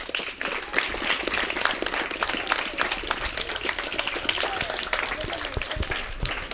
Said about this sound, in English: I want to give yourself a big round of applause